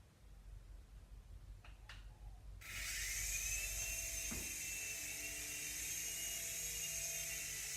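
A small motor whines up suddenly and holds a steady, high-pitched buzz, like a toy helicopter's rotor spinning close by, after a couple of faint clicks.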